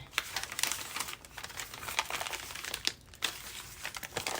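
Packaging paper is folded up into a pocket for a junk journal, a close, continuous crinkling and crumpling with frequent sharp crackles throughout.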